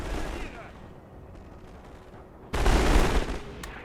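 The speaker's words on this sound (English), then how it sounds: "And then submachine gun shots into that." World War One video game battle with submachine gun fire and grenades, a dull rumbling clatter of gunfire that swells into a loud burst of blasts partway through.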